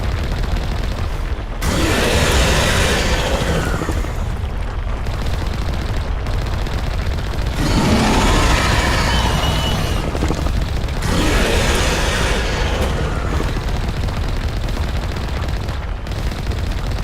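Sustained bursts of rapid gunfire in the Mass Effect Legendary Edition game, loud and dense, with heavy volleys pausing briefly around two, ten and sixteen seconds before resuming.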